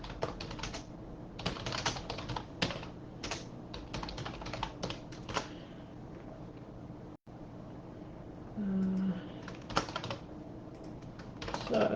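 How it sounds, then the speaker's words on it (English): Rapid clicking of keys on a computer keyboard, with steady bursts of typing and short pauses between them, close up and moderately loud, with no talking. "I'm just going to type it out."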